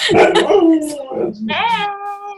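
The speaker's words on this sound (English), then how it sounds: "My dog's talking." A pet dog vocalizes indoors during a video call, a few close yips and whining bark-like sounds followed by a rising, tonal whimper.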